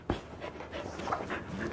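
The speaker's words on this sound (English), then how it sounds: "The dogs are so excited I've made the bed that they've just taken over." Excited dogs pant rapidly and steadily up close on a bed, a soft rhythmic breathing with no voices.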